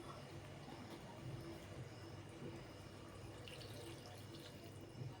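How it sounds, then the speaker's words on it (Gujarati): Water splashes and trickles into a pan for Maggi noodles, a faint, continuous running pour with soft bubbling, quiet and close. "ટોટલ મેં દોઢ ગ્લાસ પાણી એડ કરેલું છે"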